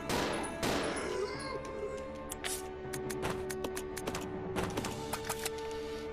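Handgun shots in Resident Evil Zero, a loud opening report followed by a series of sharp, evenly spaced clicks and taps over a sustained low drone, with no voices.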